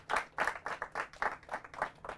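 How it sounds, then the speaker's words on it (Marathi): Audience clapping for quiz contestants in steady rhythmic unison, about eight evenly spaced claps, soft and somewhat distant. "टाळ्या त्यांच्यासाठी."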